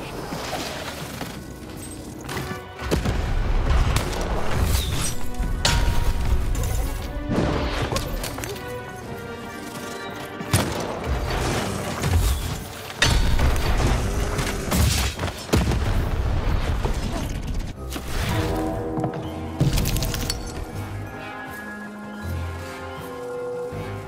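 Cannons fire repeatedly in the video game Lost in Random, heavy booming blasts and crashes recurring throughout amid loud game music and effects.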